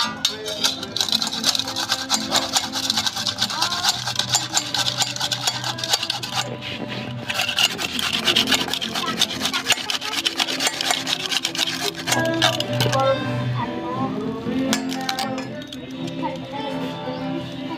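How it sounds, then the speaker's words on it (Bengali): Peeled kohlrabi grated by hand over a grater in a home kitchen, a steady continuous rasping scrape with a fast repetitive rhythm, close and fairly loud throughout. "দেখুন এইভাবে কফিগুলো আমি সব ঘষে নিচ্ছি"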